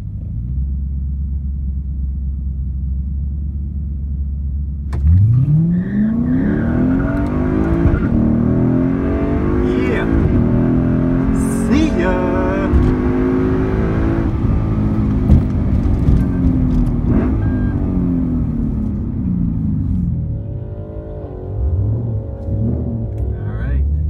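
A tuned BMW 135i with a downpipe launches at a drag strip, its engine sweeping up loudly through the gears in rising roars with shifts between, steady and close, after an idle rumble, with voices underneath.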